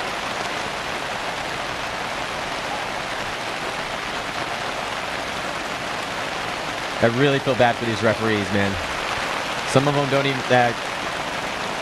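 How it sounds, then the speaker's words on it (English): Steady, dense downpour hissing throughout an outdoor paintball match, with a voice speaking briefly over the rain near the end. "the rain really starts to dump down now"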